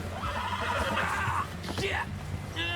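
A horse neighs in Red Dead Redemption 2, a single whinny rising and falling near the middle, set over constant game background sound and voices.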